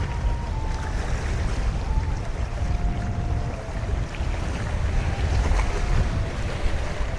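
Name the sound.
cargo ship passing on Muriganga river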